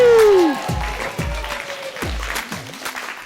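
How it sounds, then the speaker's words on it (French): A school audience at a slam poetry performance applauds a performer: clapping from a crowd of pupils, under a loud descending electronic tone and low thumping tones. "Faites un tonnerre d'applaudissements pour Louis."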